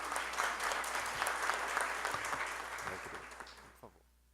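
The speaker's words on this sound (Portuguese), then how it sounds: "Por favor, uma salva de palmas." Audience applause at a city council session in Porto Velho, dense clapping from a seated crowd holding steady for about four seconds before thinning out and fading.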